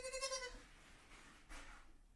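Goats in a winter barn bleat, a quiet, wavering bleat at the start followed by a second shorter call about a second later, fairly close in a still room.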